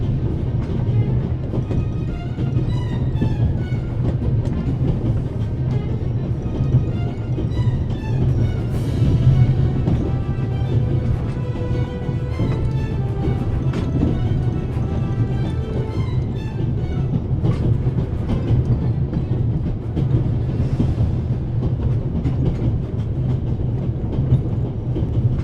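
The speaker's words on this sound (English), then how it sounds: "But if I don't stop the train soon, I won't be able to use that information in this lifetime." A fast-moving train in the point-and-click adventure game The Raven: Legacy of a Master Thief, a loud continuous rumble of rolling wheels and carriages with steady clattering throughout, no voices.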